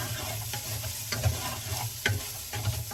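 Food frying in a pan while being stirred, a steady close sizzle with a few soft scraping strokes of the utensil every half second or so.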